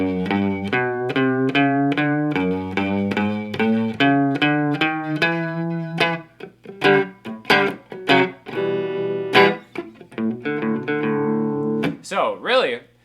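Electric guitar played through a Univibe pedal, picking out a walking line: a run of clear, evenly spaced notes, then choppier phrases ending in a warbling bend, loud and close.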